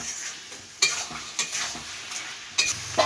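A spoon stirs spice masala frying in a pan for a chicken dish. Sharp scraping strokes land every half second or so over a continuous close sizzle, with no talking.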